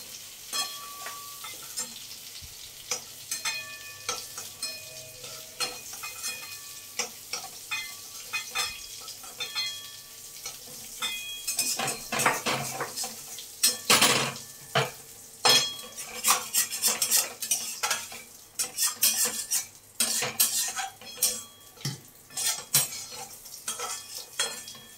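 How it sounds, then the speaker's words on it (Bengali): Fried potatoes are lifted out of a pan of hot oil while the oil keeps sizzling. A spoon scrapes and clinks against the pan, and the clatter grows busier and louder in the second half. "এবার আমি আলুটা তুলে নিচ্ছি।"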